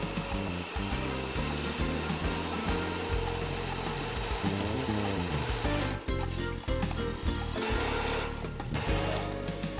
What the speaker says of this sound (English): Continuous cutting causes the saw blade to reach high temperatures, quickly dulling the edge.